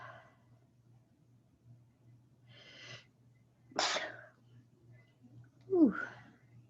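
A single sharp sneeze bursts out near the end, preceded by a couple of breathy huffs and quiet sniffs in an otherwise hushed room with a faint steady hum.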